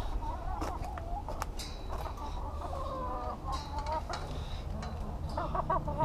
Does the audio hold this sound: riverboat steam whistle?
no